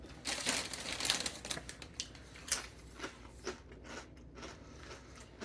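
Canadian Late Night Doritos chips crunched up close, a run of crisp, dry crackling bites packed tightly at first, then spaced into separate crunches, with no one speaking.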